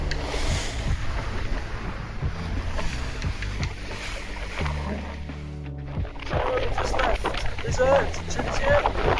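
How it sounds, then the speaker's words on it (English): Steady wind and water rush aboard a Dixon 65 sailing yacht at sea near sunset in about 15 knots of breeze. Someone talks over it throughout, with a brief lull midway. "So the wind's down a bit to 15 knots, just as we're approaching sunset."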